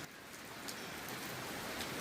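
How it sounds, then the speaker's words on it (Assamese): Steady rain falls outdoors after a night of continuous downpour, a dense, even hiss of drops striking surfaces nearby, with no voices. "কালি ৰাতিৰ পৰা এতিয়ালৈকে বৰষুণটো এৰাই নাই"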